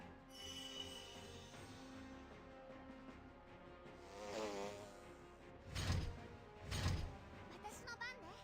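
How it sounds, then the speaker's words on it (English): In the Digimon Survive video game, the insect Digimon Tentomon flies with a soft buzzing of wings, faint under background game music, followed by a couple of louder whooshing bursts near the end. "Tentomon was just flying, it wasn't talking."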